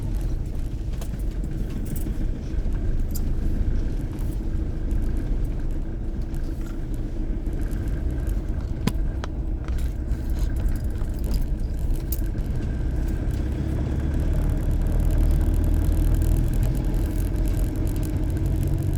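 A car driving along a road through thick jungle near Mutathi, with a steady, loud engine rumble and road noise running throughout, no voices.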